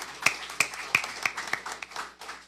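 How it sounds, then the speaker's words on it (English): Scattered claps from a junior science quiz audience ring out in a short, thin burst, a handful of distinct hand claps spaced irregularly rather than a full crowd ovation. "Let's give them a round of applause."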